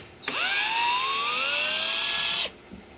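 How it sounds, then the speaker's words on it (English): An electric screwdriver backs a screw out of a wooden shipping crate, a single close whine rising in pitch for about two seconds before cutting off, with a soft clunk afterward. "We're going to start by removing the screws from the crate."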